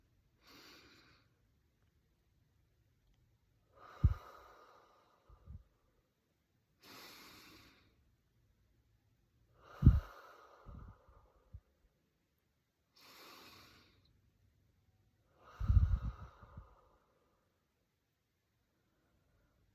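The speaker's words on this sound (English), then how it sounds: "I just need to take a couple deep breaths." Slow, deep breaths come close and quiet, each a soft hissing inhale and exhale with long pauses between, and a few heavier breaths that puff against the microphone.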